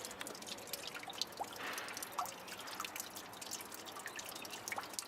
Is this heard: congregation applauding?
no